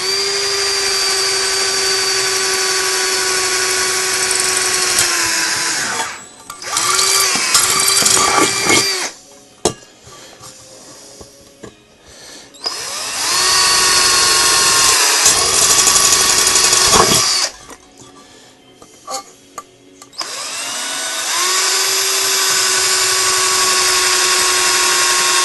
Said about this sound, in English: Still quite a thin drill bit. Let's see if this will do any better.